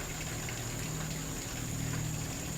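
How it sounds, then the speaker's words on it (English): Water runs down a man-made concrete drainage canal on a hillside in Singapore, a steady, even rush of flow with a faint constant hum beneath, no talking. "canal for draining water off the hill"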